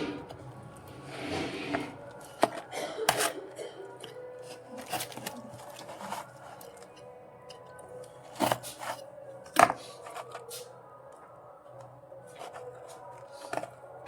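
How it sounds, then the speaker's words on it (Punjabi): A knife cuts through a tray of semolina barfi, giving scattered sharp taps and scrapes as the blade meets the tray, irregular and close, separated by quiet pauses. "ਹੁਣ ਮੈਂ ਤੁਹਾਨੂੰ ਦਿਖਾਉਣੀ ਆ ਕੱਟ ਕੇ ਦੇਖੋ ਬਹੁਤ ਸੋਹਣੇ ਪੀਸ ਕੱਟੇ ਜਾਣਗੇ ਇਹਦੇ"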